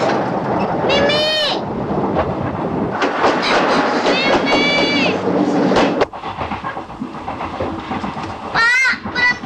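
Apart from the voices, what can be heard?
train running on rails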